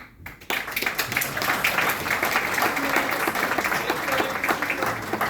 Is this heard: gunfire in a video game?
no